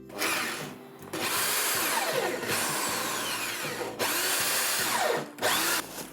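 A power drill bores a hole in a woodworking build with loud, close, continuous grinding, its pitch sweeping and surging across several bursts with brief dips between, and no voices over it.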